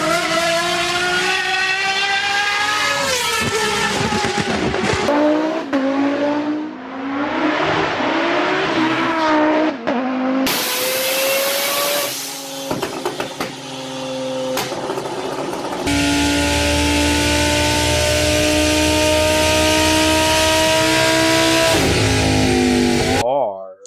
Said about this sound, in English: Or this 3-liter turbo diesel V6.